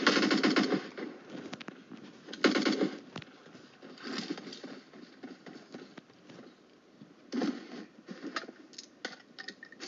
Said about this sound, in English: I'm gonna kill this guy with a pistol.